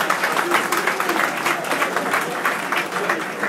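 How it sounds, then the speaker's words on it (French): Applause from an audience at a Côte d'Ivoire community gathering in Paris, a dense, steady wash of many hands clapping with no break, moderately loud and fairly near. "Voilà, les applaudissements consistants pour Madame Djeneba Diarra-Souba"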